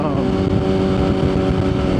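Suzuki GSX-R1000 motorcycle fitted with a pieced-together aftermarket exhaust, a steady loud rumbling drone with layered engine harmonics, continuous and close throughout with wind noise.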